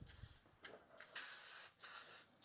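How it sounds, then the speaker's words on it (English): Several hissing bursts of cooking spray onto muffin tins, each a second or so long with short gaps between, close and fairly quiet. "after I spray them with cooking spray"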